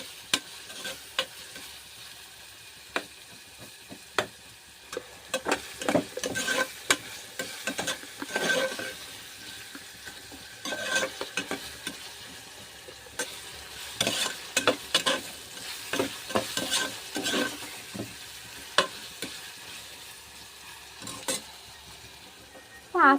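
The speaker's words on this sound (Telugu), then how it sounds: "ఈ కర్రీ ముందర ఇంకోండి ఆనియన్స్ ఫ్రై అవుతున్నాయి కదా, ఇవి గోల్డెన్ బ్రౌన్ కలర్లో ఫ్రై అవ్వాలి." Onions frying in a pan sizzle softly underneath for a curry, then ginger garlic paste goes in. Repeated scraping stirs of a spoon against the pan come in irregular bursts over the sizzle.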